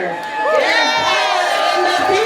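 A crowd at a San Francisco city workers' rally protesting layoffs cheers and whoops loudly and steadily, many high voices blending into a sustained roar that carries on for the whole moment.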